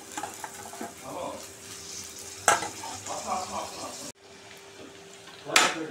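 Turmeric fries in a pan for a bitter gourd dish, with a low sizzle broken by scraping stirs and sharp clatters of a utensil against the pan.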